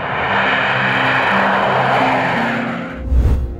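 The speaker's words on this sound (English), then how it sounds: "The B-2 Spirit Stealth Bomber was nothing short of an engineering marvel." A B-2 Spirit stealth bomber passes with a loud, broad jet roar that holds steady and then fades into a deep low rumble near the end, with no voices.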